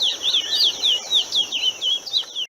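Birds sing in a forested backyard in Manaus, close, bright chirping and repeated rising whistles layered over a constant high insect-like buzz, continuous throughout.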